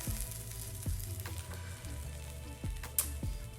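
A protein pancake frying in a pan right after the flip, a soft continuous sizzle with a few light taps and scrapes close by.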